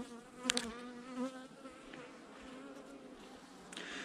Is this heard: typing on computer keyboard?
no